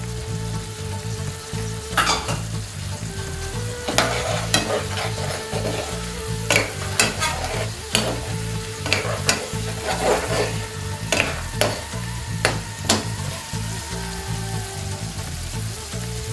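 Lamb Madras curry with a spoonful of cooking stock sizzles steadily in a hot pan, broken by repeated sharp scrapes and clanks of stirring utensils against the metal, fairly close and with no talk.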